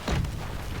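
A Panzerschreck rocket launcher firing in Call of Duty zombies on the Der Riese map, a short, close, booming blast with a heavy low thud that quickly fades.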